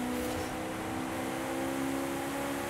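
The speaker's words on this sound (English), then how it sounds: "It does sound like a race car." A GT1 race car engine in Forza Horizon 5 holds a steady, loud drone with strong harmonic tones throughout, a sustained high-revving note with no break and no talking.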